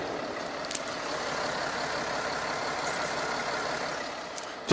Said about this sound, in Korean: 디젤 엔진치고 굉장히 정숙한 엔진 소음을 만나보실 수가 있습니다.